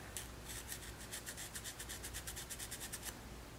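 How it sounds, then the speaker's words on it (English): A small Scotch-Brite pad scrubbing grime off a chainsaw part, rapid rhythmic rasping strokes, close and quiet, with no talk. "Take this little Scotch-Brite."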